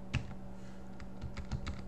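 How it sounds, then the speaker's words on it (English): Keystrokes on a computer keyboard tap out sparse, irregular clicks at close range, a few separated presses over a quiet background hum, with no talking. "Now here I'm typing"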